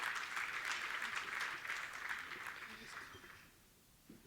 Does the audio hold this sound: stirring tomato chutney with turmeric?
no